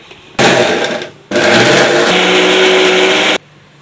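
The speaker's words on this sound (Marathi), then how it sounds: "मिक्सरच्या भांड्यामध्ये अगदी प्लस मोडवर फिरवत राहायचं" A mixer grinder grinding coconut whirs loudly in two bursts, a short pulse then a longer steady run, with a harsh grinding roar, close up.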